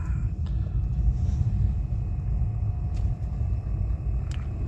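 Auto rickshaw driving along a narrow market road, a steady low engine rumble with traffic noise around it and a few faint clicks.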